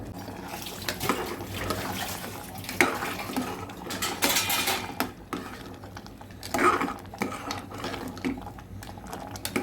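A utensil clatters and scrapes against a cooking pan as banana stem kootu is stirred, with irregular metallic knocks and some watery sloshing.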